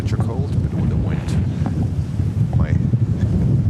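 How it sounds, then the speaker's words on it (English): Strong, cold wind at JFK Airport in New York batters the microphone with a loud, steady roaring rumble, with faint voices and distant sounds underneath. "it's so windy, cold"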